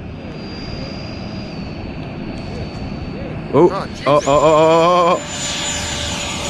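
A model airplane flies overhead with a steady, thin engine whine, then a louder, rising rush as it comes in to attempt a landing, while a voice exclaims briefly over it.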